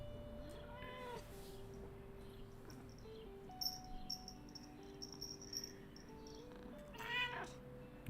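A pet cat meows twice indoors, near and fairly quiet, with a soft chirping in the background and a faint hum in between.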